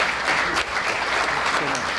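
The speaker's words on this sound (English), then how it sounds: "how about a round of applause for this guy right here" A crowd claps steadily in dense applause at a high school sports hall of fame induction ceremony, a short continuous burst filling the room.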